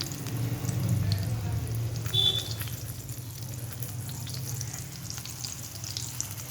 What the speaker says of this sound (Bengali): এবার আমি তৈরি করা পাঁপড়ের মোগলাইগুলো একে একে তেলের মধ্যে ছাড়ব।